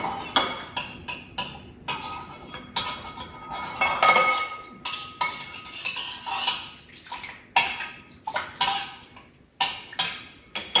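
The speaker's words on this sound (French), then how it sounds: "Je mélange les cafés." A spoon clinks repeatedly against a cup or dish while coffee is stirred for tiramisu in a home kitchen, a quick, irregular run of close, bright tapping with no talking.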